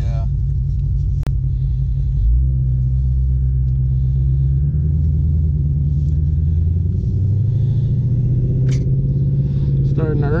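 Deep, steady rumble of a 2020 Shelby GT500 with a carbon fiber track pack on a track, engine and exhaust droning loudly throughout as heard from inside the car, with little change in pitch.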